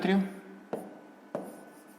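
A pen scratches on paper while a math exercise is written out, faint strokes with two sharp taps, following a brief bit of speech at the start.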